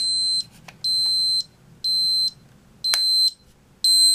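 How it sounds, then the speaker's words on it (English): A Timex T123S alarm clock set to its louder alarm gives loud, piercing electronic beeps in a regular on-off pattern, each lasting about half a second, with a quiet hum between beeps. "That's the louder alarm."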